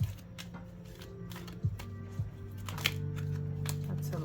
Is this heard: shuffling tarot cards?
yes